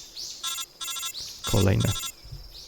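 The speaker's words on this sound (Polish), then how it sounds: "Kolejny telefon." Phone ringing in the stealth video game Metal Gear Solid 3: Snake Eater, three short bursts of electronic ring tones with a low voice-like rumble and game sounds between them.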